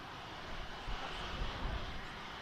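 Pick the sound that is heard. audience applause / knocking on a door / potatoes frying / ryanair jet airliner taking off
ryanair jet airliner taking off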